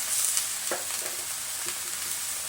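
Adobong sitaw, string beans with black pepper, sizzling in a pan as it is stir-fried, a steady hiss broken by a few soft scrapes and stirs of the spatula.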